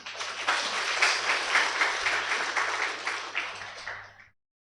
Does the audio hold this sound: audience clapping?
yes